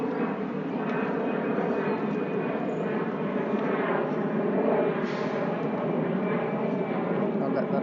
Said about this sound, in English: I'll let that plane go by.